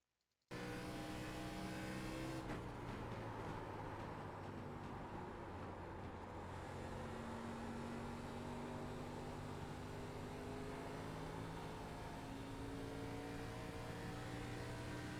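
An ARCA race car at Phoenix in the iRacing simulator drones steadily at speed for about fifteen seconds, with a constant engine tone that shifts slightly in pitch as the throttle changes.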